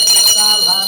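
A handheld puja bell rings continuously during a Hindu ritual, bright sustained metallic tones shimmering close and loud, with chanting voices mixed in.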